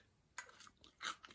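Someone bites into and chews crunchy homemade fermented sauerkraut pickles with dill, giving a few crisp, close crunches in quick bursts with quiet pauses between them.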